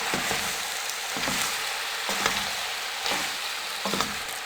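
Chicken vegetable macaroni stir-fried in a hot pan, a steady close sizzle with a regular series of scraping spatula strokes about once a second.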